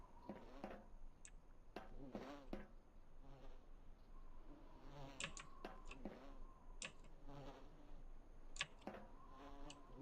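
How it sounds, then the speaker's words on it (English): Flies in the video game Voices of the Void buzz faintly and steadily, broken up by sharp clicks and taps in a quiet room. "Why am I hearing flies?"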